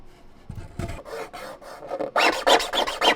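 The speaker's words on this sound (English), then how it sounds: "3D printed layer lines sliding past each other create way more friction than when they run with each other" 3D-printed plastic parts rubbing together with their layer lines sliding across each other, giving a close, dry rasping scrape in several short strokes that grow louder and harsher toward the end.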